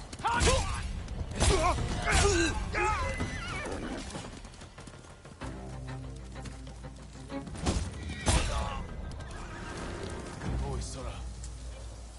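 A horse whinnies loudly twice amid galloping hoofbeats and combat noise in Ghost of Tsushima Director's Cut, with voices speaking over parts of it.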